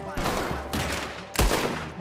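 In the video game Red Dead Redemption 2, three loud, sharp bursts of gunfire crack close by, each decaying into a rumbling tail, with faint voice-like sound between them.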